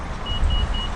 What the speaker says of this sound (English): 3 beeps shows that the car is locked.